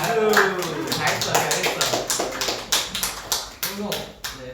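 A small group claps in quick irregular bursts, loud and close, mixed with tapping and overlapping voices.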